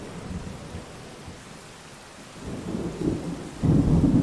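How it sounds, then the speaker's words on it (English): Pre-cycle rain in the Rain World video game hisses steadily, then deep thunder rumbles swell louder toward the end, heavy and close with no voices. "It is currently raining."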